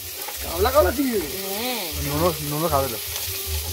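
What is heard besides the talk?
prawns frying in a pan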